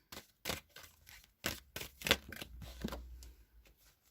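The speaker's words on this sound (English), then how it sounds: "I'm going to go ahead and shuffle this Queen of the Moon Oracle" A Queen of the Moon Oracle card deck is shuffled by hand in a run of quick, soft riffling and slapping bursts, close and fairly quiet, with brief pauses between strokes.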